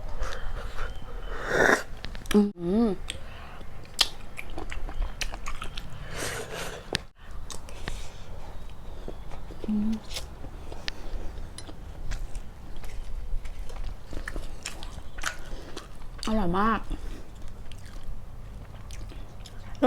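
Someone eats boiled apple snails up close, with wet chewing, squishy slurps of snail juice and occasional sucking clicks and soft hums, steady throughout.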